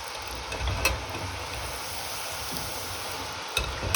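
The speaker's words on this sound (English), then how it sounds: "Frying dough in various ways is quite an Italian thing, isn't it?" Struffoli dough frying in oil, the oil turning frothy after several batches, giving a steady, close, even sizzle with no talk.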